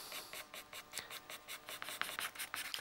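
Pastel pencil in grey rubs broadly across paper for a wildlife drawing: a steady run of soft, scratchy strokes, close and quiet, repeating in a quick even rhythm with no voices.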